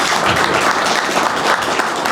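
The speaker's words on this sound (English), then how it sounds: "Hey, a big round of applause for our panelists." A room of attendees at a brewing sustainability talk applauds the panelists, a dense, even wash of many hands clapping at once, loud and sustained with no pauses.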